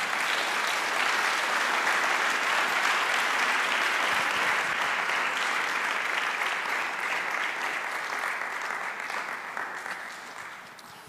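Loud, sustained applause from a congregation at a church service, steady clapping that fades slightly toward the end.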